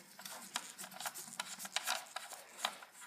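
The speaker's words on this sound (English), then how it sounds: "I'm just using some pliers to unscrew the front piece" Pliers working loose the front piece of a quad, producing a run of close, dry rasping and clicking scrapes in irregular bursts for a few seconds, with no talking.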